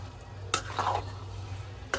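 Spoon stirring spinach khichdi with fresh coriander and cumin-coriander powder in a pot, a couple of quick scraping strokes over a low steady hum, fairly faint and close.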